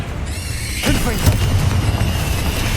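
Confringo fire spell exploding in Hogwarts Legacy: a sudden burst lands about a third of the way in and rolls into a sustained rumbling roar over a constant busy game backdrop.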